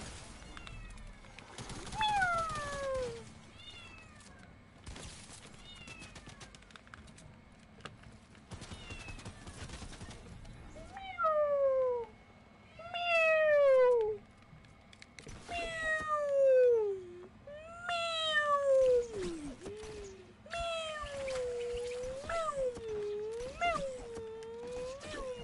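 A cat meows repeatedly in a sequence of drawn-out, rising and falling cries, growing more frequent and insistent, with some muffled bumps and handling noises in between.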